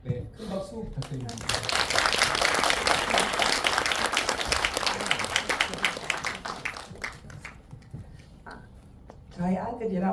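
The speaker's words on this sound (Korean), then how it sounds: "큰 박수 부탁드립니다" An audience at a community film festival event breaks into applause, a dense wash of clapping that swells, then thins out, with a voice speaking briefly before and after.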